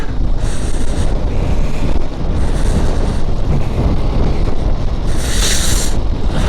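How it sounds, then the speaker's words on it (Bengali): Strong wind at Zero Point in Sikkim roars steadily and loudly across the microphone, a dense continuous buffeting with gusts swelling and easing throughout. "হাওয়া চলছে খুব জোরে"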